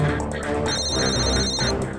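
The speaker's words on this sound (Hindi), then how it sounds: "आपका फोन बज रहा है।" A telephone rings steadily for about a second in an indoor scene of a Hindi courtroom crime drama, mixed with background music and ambience.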